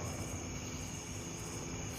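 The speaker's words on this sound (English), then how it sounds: "There it is, police helicopter." A police helicopter circles over a residential neighborhood, a steady broadband rotor and engine drone holding constant throughout, moderately distant with no talk.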